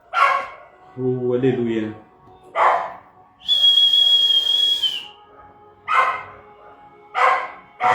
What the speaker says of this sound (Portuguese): Os cachorros estão atrapalhando.